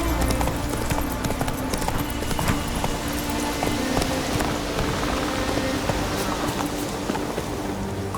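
Hoofbeats of Roach the horse galloping in The Witcher 3: Wild Hunt on Skellige, a steady rapid clip-clop rhythm running continuously over rain-like ambient patter, fairly loud and close throughout.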